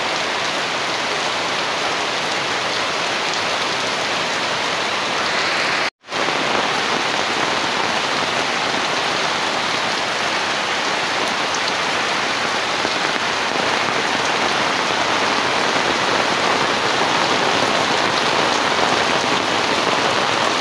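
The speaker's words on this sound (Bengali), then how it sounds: "দেখেন প্রচন্ড বৃষ্টি হইতাছে বৃষ্টি আর থামাতামি নেই একটানা বৃষ্টি ওইতেই আছে" Heavy, unbroken rain pours steadily on a village in dim, darkening weather, a dense even hiss that fills the whole stretch except for one split-second dropout near the start; no one speaks.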